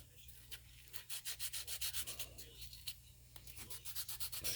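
Close, steady rubbing strokes from abrasive scuffing the glazed clutch of a fishing reel, a quick rhythmic run of scratchy passes with no talking.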